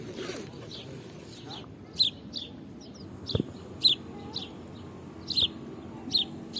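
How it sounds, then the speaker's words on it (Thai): A duck begging for food gives short calls repeating every second or so over a low outdoor rumble in Lucerne, Switzerland, with a soft voice briefly in the background. "วันนี้มีเป็ดมาขอขนมกินอ่ะ"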